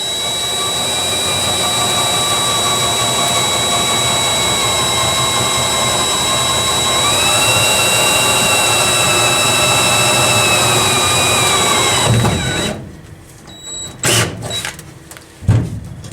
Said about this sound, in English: drilling into steel is not that great, but slow seems to be better.